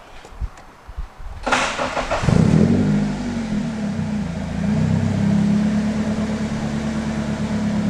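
A car engine cranks and catches after a couple of seconds, then settles into a steady, close idle hum that continues to the end.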